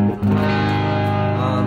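A modern Stratocaster played on its bridge pickup through an amp set at the edge of breakup rings out as a single sustained, slightly gritty chord after a brief pick attack.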